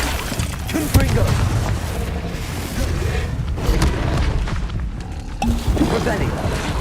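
The Confringo fire spell exploding during combat in Hogwarts Legacy, a loud booming blast with crashing, shattering debris amid a dense mix of other spell effects and battle noise, close and with voices talking over it.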